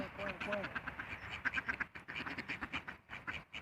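Wild ducks quack in quick, overlapping bursts while being fed bread and snacks outdoors, close and lively, mixed with someone talking over them.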